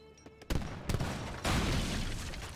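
Gunfire in an Age of Empires 3 battle between Ottoman and Japanese armies, a sudden volley of cracks followed by a denser, sustained fusillade of shots, moderately loud with no talking.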